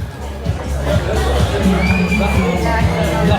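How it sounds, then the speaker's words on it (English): A busy crowd along the beach promenade at Playa del Inglés, Gran Canaria, forms a loud, continuous babble of voices with occasional shouts and whoops, while rhythmic music thumps underneath. "That's some crowd back there."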